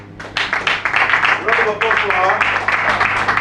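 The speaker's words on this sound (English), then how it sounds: "A round of applause for her." An audience at a cowpea farming training session applauding, a short burst of clapping from a gathered crowd with someone speaking over it.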